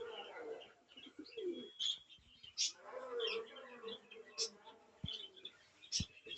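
Pigeons coo repeatedly in a loft, soft throaty calls mixed with chirps and a few sharp clicks, fairly close.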